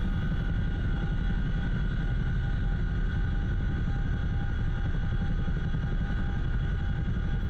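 Apache attack helicopters taxiing on an airfield at Camp Bastion in DCS World, a steady low rotor and turbine drone with a constant engine whine, even and continuous throughout.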